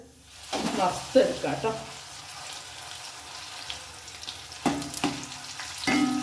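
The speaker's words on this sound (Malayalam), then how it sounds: "നമുക്ക് ഈ പപ്പടം കുറച്ച് വറുത്ത് എടുക്കാം" Papadum fries in oil that sizzles and crackles, with a few sharp bursts and stirring clatter, and a voice briefly speaks.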